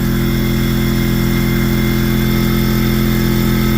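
A Harbor Freight McGraw 21-gallon 175 psi air compressor runs on a 5,000-watt power inverter, a loud, steady motor drone with a fast, even pulsing throb throughout.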